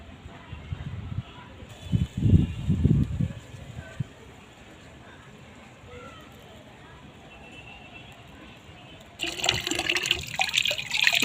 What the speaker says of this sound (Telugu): కాయని ఇలా కడుక్కొని మంచిగా తినేద్దాం